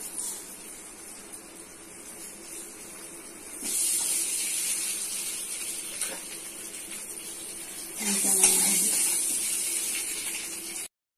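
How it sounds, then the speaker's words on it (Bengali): Eggs fry in hot oil seasoned with turmeric powder and salt, giving a steady sizzling hiss that swells louder partway through and again near the end, with no voices over it. "গরম হয়ে গেছে তেল, দিচ্ছি একটু হলুদ গুঁড়ো, একটু লবণ, ডিমগুলো লাল করে দিচ্ছি"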